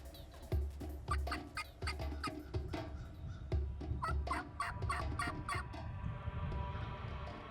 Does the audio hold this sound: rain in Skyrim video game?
no